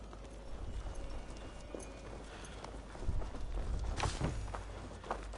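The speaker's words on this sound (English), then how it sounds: "Now to deliver Magni his horse" Horse hooves clip-clopping in Assassin's Creed Valhalla, a steady run of hoofbeats on the ground amid game ambience, growing louder and busier partway through.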